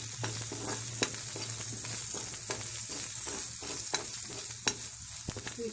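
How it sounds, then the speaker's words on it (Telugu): Fried onions with curry leaves, green chilies and turmeric stirred in a pan for muramara upma, a steady close sizzle broken by regular scraping strokes of the spoon, with no talk. "ఇప్పుడు ఇందులో కరివేపాకు, పచ్చిమిర్చి, పసుపు కూడా వేసి కలుపుకోవాలి"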